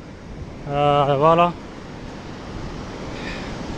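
Ocean surf at the Taghazout surf spot: a steady, soft wash of breaking waves runs through the whole stretch, with a brief voice speaking near the start.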